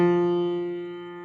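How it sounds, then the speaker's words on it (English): A single concert F struck on a piano rings out clearly and slowly decays, one sustained note with no other sound. "which means that a C on the French horn is actually a concert F, which sounds like this on the piano."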